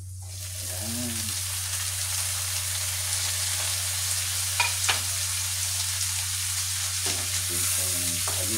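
Ground pork and chayote fry in a pan, a steady close sizzle running throughout with occasional stirring clacks and a low constant hum underneath, as a voice speaks briefly.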